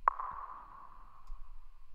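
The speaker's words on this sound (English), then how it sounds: "It consists out of a few sounds. It's this click sound." A single sharp click struck near the start of a Logic beat, ringing out as a thin, fading tonal tail for about two seconds, quiet and isolated with nothing else playing.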